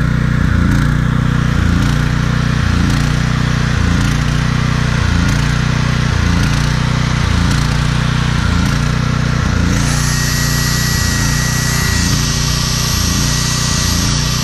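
A Troy-Bilt 8000-watt generator with a 15 HP Briggs & Stratton engine runs on old gas, a loud steady drone with a regular pulsing chug and a sharper pitch shift near the end as the load changes.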